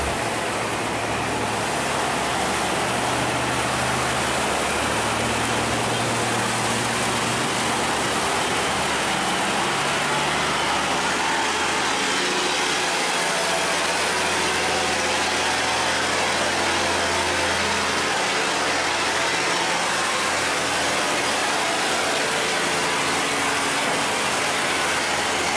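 Engine of a stone-carrying boat heading toward a sluice gate, a steady low drone under broad, continuous noise with no talk, holding even for the whole span.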